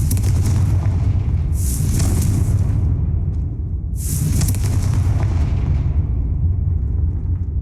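Fiery Confringo blasting spell explosions from Hogwarts Legacy, two loud bursts with bright crackling highs over a constant deep rumble of game sound, close and dense, no talk.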